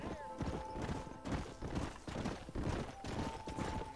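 Galloping horse hooves in Red Dead Redemption pound in a rapid, continuous rhythm over several seconds, close and busy, while a voice talks over them.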